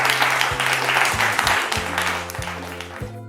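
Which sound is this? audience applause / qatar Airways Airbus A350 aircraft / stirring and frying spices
audience applause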